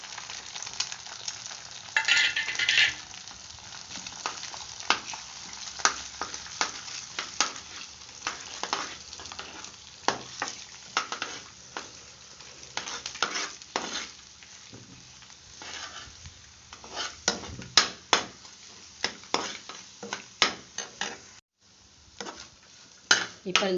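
Drumstick leaves and eggs fried and stirred in a pan, a close sizzle broken by frequent scraping and clinking of a utensil against the pan.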